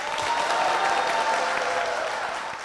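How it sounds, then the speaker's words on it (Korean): Audience applause fills a church gathering as a deacon is welcomed forward, a dense, even wash of clapping that holds steady and fades slightly at the end. "박수로 모시겠습니다"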